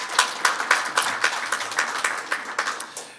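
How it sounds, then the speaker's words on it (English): A small audience applauds at a ministerial announcement in Hamilton, a steady patter of individual hand claps with distinct strokes repeating through the whole stretch at moderate loudness, no talk over it. "let's give her a round of applause"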